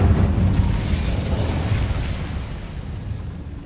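An Incendio fire spell in Hogwarts Legacy bursts with a loud, close whooshing blast of fiery noise that fades slowly over a few seconds.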